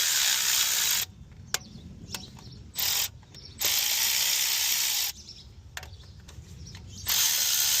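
A ratchet clicks in quick bursts with short pauses between them, loosening 8mm worm-style hose clamps during a water pump replacement on a 2004 Chevy Tahoe. It is close and fairly loud.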